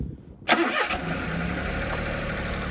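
A Daihatsu Midget II kei truck engine cranks and catches after a short silence, then settles into a steady, close, even idle with no talking.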